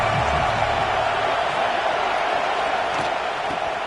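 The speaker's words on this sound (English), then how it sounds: "This crowd ready to make its presence known." A stadium crowd at a Texas A&M versus LSU college football game makes a dense, steady roar of massed voices, loud and continuous with little variation.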